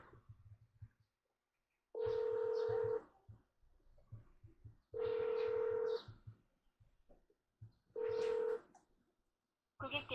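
Three long electronic ringback tones sound at regular intervals, steady and beeping, separated by quiet gaps with faint background noise.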